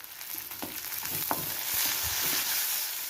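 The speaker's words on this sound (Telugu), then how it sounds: "పచ్చిమిరపకాయలు కూడా వేసేస్తున్నాను." Green chilies, dried red chilies, cumin, mustard seeds, chana dal and urad dal frying in hot oil for a spice tempering, with a close, steady sizzle and crackling pops.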